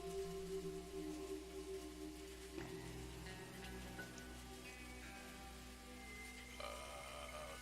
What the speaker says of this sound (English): I want to listen to rain sounds.